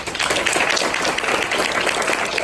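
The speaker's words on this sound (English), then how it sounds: "Guys, could we please give a round of applause for his speech?" A student speaking club's audience applauds a speaker with dense, continuous clapping from many hands that holds steady for a couple of seconds.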